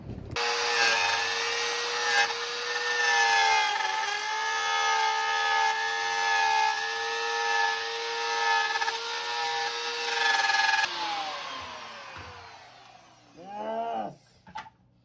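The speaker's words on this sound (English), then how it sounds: "I'm just about to route the final pass on the headstock." A router makes the final pass on a reclaimed-wood lap steel headstock, giving a loud, continuous high whine with shifting pitch for about ten seconds before it winds down, followed by a few knocks and rattles near the end.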